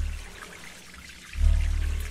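Water being collected in the survival game Sheltered: a faint trickle first, then a louder low pouring rush that starts partway through and continues to the end.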